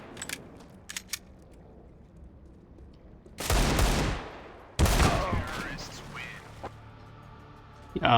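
Gunfire in Counter-Strike: Global Offensive, with a few scattered shots, then two loud bursts of rapid firing, followed by fainter mechanical game sounds.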